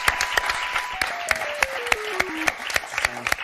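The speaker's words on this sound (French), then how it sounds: "on vous applaudit très fort" Studio audience applauding game show contestants on a French word game, a steady wash of clapping with sharp percussive hits and a descending musical tone sequence running underneath.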